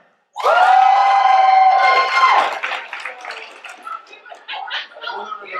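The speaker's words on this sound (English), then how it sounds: "Give a round of applause" A convention audience at a late-night event breaks into loud, sustained cheering and shouting, mixed with clapping. The roar fades into scattered whoops and chatter.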